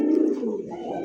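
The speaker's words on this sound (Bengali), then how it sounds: "দেখছেন দর্শক চিলা কবুতর, আর ডাকটা কত সুন্দর" A single chila pigeon gives a soft, low, rolling coo up close, one continuous throaty call lasting about a second.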